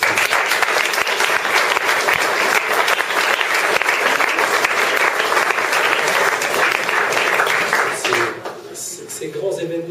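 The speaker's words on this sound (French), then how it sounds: "Je crois qu'on peut l'applaudir très fort." Loud, dense applause from an audience at an education award ceremony, sustained for several seconds before tapering off as a voice begins speaking.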